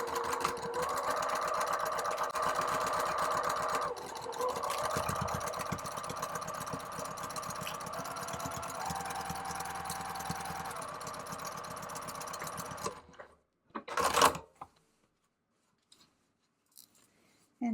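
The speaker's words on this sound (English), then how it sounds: "using 5/8 of an inch seam allowance, I'm going to stitch down that right hand side" A sewing machine stitches a seam down the side of a fabric panel for a drawstring bucket bag, a steady whirring run of about thirteen seconds with slight speed shifts, then stopping, followed by a brief handling noise and near silence.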